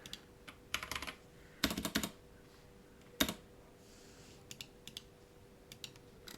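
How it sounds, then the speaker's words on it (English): Bursts of typing on a computer keyboard, quick clusters of clicky keystrokes separated by pauses, close and fairly quiet with no talking. "Let me type it out."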